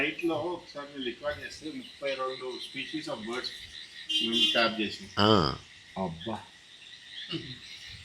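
Frogs croak and insects trill in rapid, overlapping bursts from outside, rising and falling in short choruses against a quiet night background.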